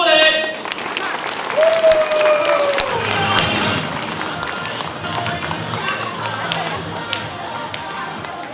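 Applause from an elderly audience at a Mid-Autumn Festival event with a harbor boat outing in Kaohsiung, a sustained wash of clapping with scattered taps and thumps, and a voice heard briefly near the start.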